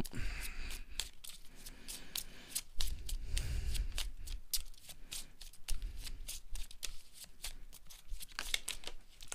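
Tarot cards being shuffled for a reading, a steady run of close, crisp riffling and flicking with brief soft thumps, no voices.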